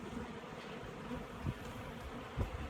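A dense, steady hum of many honey bees buzzing close by during a hive cutout, with a couple of soft bumps and knocks underneath.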